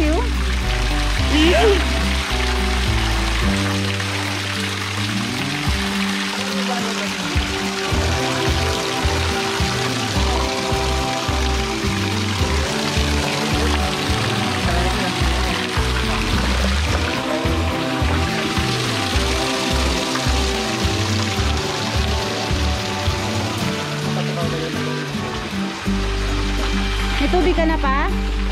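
Water pours like a shower from overhead rock inside Cabag Cave in Silang, Cavite, a steady splashing trickle running the whole time under near-constant talk and music.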